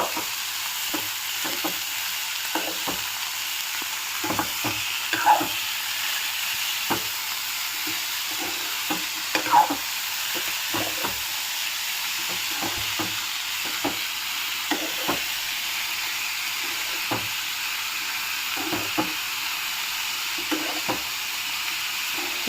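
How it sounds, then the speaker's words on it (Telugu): Shredded cabbage tossed with onions in a hot pan gives a steady low sizzle, broken by repeated scraping clicks of a spatula stirring it, close and fairly quiet, with no voices. "ఇప్పుడు ఒకసారి క్యాబేజీని మొత్తం మిక్స్ చేసుకుందాము."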